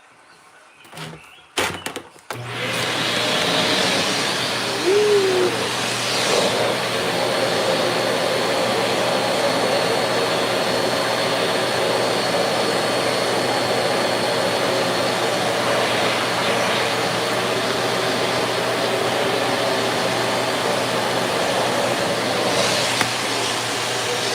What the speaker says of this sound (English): Alright, I gotta vacuum this up.